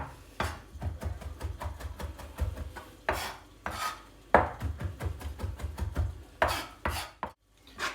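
Pastırma being chopped into small pieces with a knife on a board, a rapid run of crisp, close knocks and scraping strokes in steady bursts, with short pauses between rounds and no speech.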